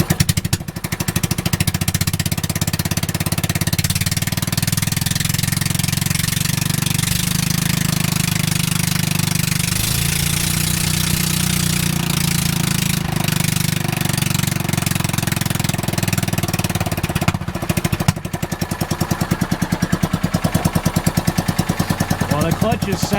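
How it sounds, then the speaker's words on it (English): A John Deere Gator 4x2 utility vehicle engine with new clutches runs steadily and loud throughout, a rough low mechanical drone with rapid knocking pulses, briefly dipping near the end as it is shut down. "Man, the clutches sound so much better, so much more smooth."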